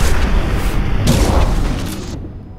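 A rocket exploding in the game Mass Effect 2, a loud booming blast with crackling debris that rolls on for nearly two seconds, then tapers into a thinner tail before cutting off abruptly.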